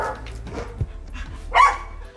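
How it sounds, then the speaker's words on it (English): Outside, a dog barks several times in short, uneven bursts with a whimper or yip between them. The barks sound fairly close, and the loudest burst comes near the end. "Can somebody shut up that dog?"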